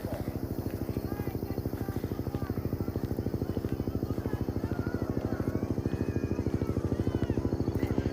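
A helicopter flies overhead on a noisy night in Gettysburg near Culp's Hill, its rotor beating in a fast, even thump that stays loud and steady throughout.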